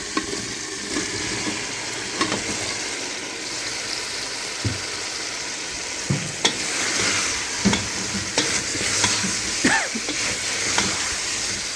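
Chicken feet frying in a tomato masala gravy in a pan, a continuous sizzle broken by the scrape and knock of a spoon stirring every second or two, close up and with no voices.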